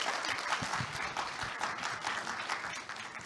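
Audience applause following a keynote speech at an autumn academic conference, a dense sustained patter of many hands clapping at moderate distance, steady and fading slightly toward the end.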